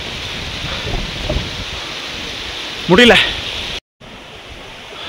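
Strong icy wind in the Himalayas roaring steadily as broad noise against the microphone, with someone speaking briefly partway through before a short dropout.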